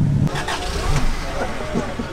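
A car at an old-school car meet cranks and starts after a jumpstart, its engine rumbling low and steady close by while people talk over it.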